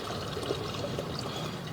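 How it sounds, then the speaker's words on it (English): Water rushes into a septic tank after a toilet flush, a steady close-up trickling and pouring flow throughout. "As you can see, the water there rushing into the septic tank."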